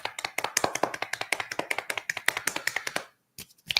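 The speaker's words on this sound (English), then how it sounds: "He's got the hand clapping" Rapid bare-hand clapping and smacking, a steady run of sharp close slaps with no voices, stopping abruptly near the end before a few last taps.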